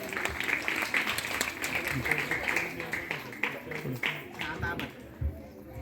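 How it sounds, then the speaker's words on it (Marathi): An audience at a village school event honoring Savitribai Phule claps in a dense, continuous burst of applause, moderately loud and fairly close, with voices mixed into the clapping that thins out toward the end. "त्यांचे एकदा जोरात टाळ्या वाजून स्वागत होऊन जाते"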